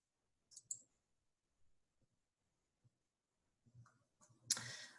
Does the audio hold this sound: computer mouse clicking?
yes